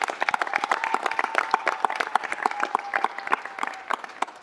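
A crowd at a city council meeting bursts into applause, with dense overlapping hand claps that carry steadily for several seconds before easing slightly.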